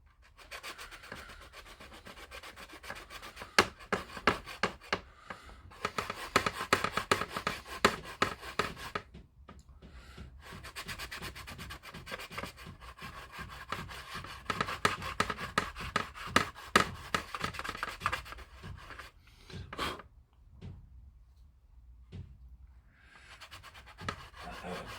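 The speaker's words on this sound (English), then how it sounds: "so we just sand it down a bit" A 180 grit sanding stick rubs over hardened filler on a plastic Airfix Armstrong Whitworth Whitley Mk.V model kit, making close, repeated scratchy back-and-forth strokes in bursts with short pauses between them.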